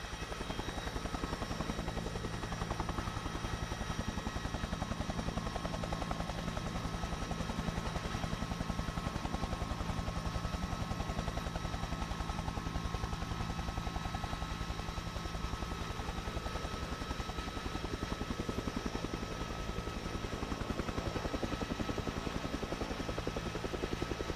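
A helicopter drones steadily overhead for the whole stretch, its loud, constant rotor and engine roar filling the air without pause during an aerial flight above Saint-Pierre in Belgium.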